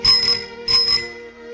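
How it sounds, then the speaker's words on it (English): A bicycle bell rings in two quick bursts, the second following about half a second after the first, loud and close, with a bright metallic shimmer that fades out at the end. "it sounds like the bells of St. Patrick"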